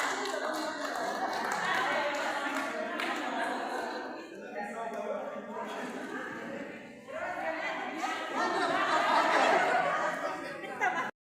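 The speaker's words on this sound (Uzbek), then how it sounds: "Qarsaklaringiz ostida." Audience applauding at a women's volleyball final award ceremony, a steady wash of clapping mixed with crowd chatter and some laughter, sustained for several seconds with a brief dip midway.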